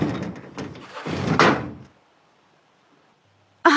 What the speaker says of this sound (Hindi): जाते वक्त दरवाजा बंद कर दीजिएगा